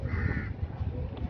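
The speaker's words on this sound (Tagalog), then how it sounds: "Tingnan mo. Yung uwak." Crow cawing outdoors at Al Seef in Dubai, a short harsh call or two over low background rumble and crowd murmur.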